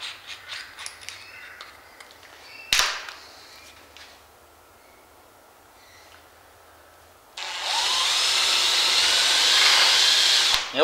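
A power drill follows up with a larger bit on HO scale model railroad work, quiet scrapes and handling clicks at first, then a sustained loud drilling whine in the final few seconds.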